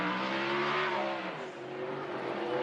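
Alan Bowden's touring race car does a burnout on a corner at Hidden Valley during a Touring Car Masters race. The engine roars loud and close without a break, its pitch sagging briefly before climbing again.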